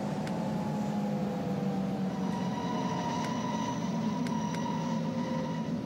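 A U7 subway train in World of Subways 2 slows into a station on Berlin's U7 line, giving a steady low rumble and whining tonal hum with faint squeals, close and continuous, with no talking.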